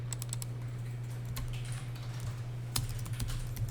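A few sharp keystrokes on a computer keyboard, including the F2 key, while entering client codes in tax accounting software, scattered clicks over a steady low electrical hum with no speech.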